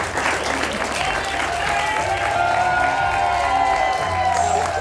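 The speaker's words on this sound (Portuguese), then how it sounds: "uma salva de palmas para o Bruno, para a professora Teresa Paiva" Studio audience applause on a Portuguese television show, a steady wash of clapping from a crowd that holds at full loudness throughout without pause.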